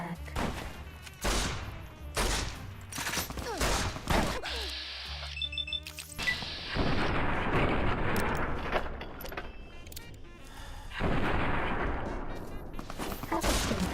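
Gunfire in Fallout: New Vegas during the Old World Blues add-on: loud, irregular shots and impacts mixed with crashing game effects. A brief tonal sound cuts in partway through before the shooting resumes with sustained noisy bursts.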